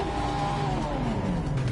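A race car engine revs in a racing game, loud and close, its pitch sliding down steadily as the revs drop, over a constant engine roar.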